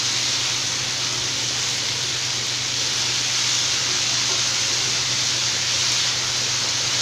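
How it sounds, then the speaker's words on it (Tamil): Chicken frying on a flat tawa for a dry fry, a steady loud sizzle with a broad hiss that continues unbroken and close throughout. "சிக்கன் ஆட் பண்ணி நல்லா வந்து ஃப்ரை பண்ணி விட்டுக்கலாம்"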